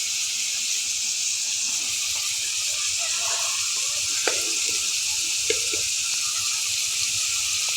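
Shrimp, dried fish and potato sauté in a pan for a Bangla greens curry, a constant bright sizzling hiss running throughout with a few faint stirring clicks and knocks.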